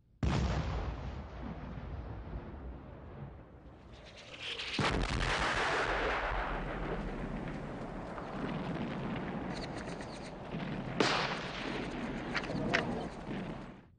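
A 40-pounder artillery gun fires on the World War I front and its shell explodes: a heavy booming blast, then a long rolling roar of detonation and rumble with sharper cracks near the end, loud and with no voices.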